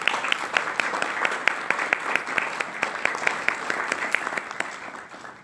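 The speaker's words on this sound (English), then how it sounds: "I would like to break the protocol and ask a round of applause for Alvaro" A conference audience at a key talk in Cartagena, Colombia, claps in sustained applause, a dense crackle of many hands at steady loudness that fades toward the end.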